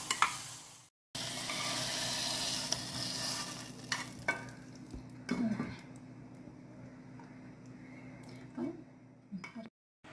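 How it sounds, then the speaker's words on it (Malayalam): Sliced plantain sautés in ghee in a pan, a soft sizzle broken by stirring scrapes and clinks, with someone speaking over the cooking. "ഏത്തക്കായും നെയ്യും കൂടി നല്ലതുപോലെ വഴറ്റിയെടുക്കാം"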